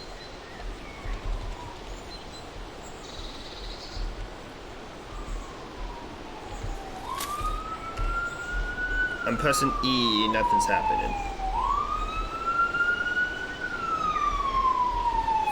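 Wailing police sirens in the horror game Last Camp, rising and falling in long sweeping tones over a steady background rumble, growing louder toward the end while someone talks over them.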